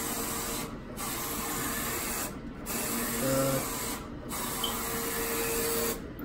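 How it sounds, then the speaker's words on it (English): A Roland FJ-50 large-format printer runs with a steady loud hiss and whir, the print head sweeping in regular passes broken by brief quieter pauses at each turnaround. "the colors are printing really good again"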